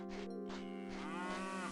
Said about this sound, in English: Well, I'm happy to hear a cow sound as opposed to an enemy.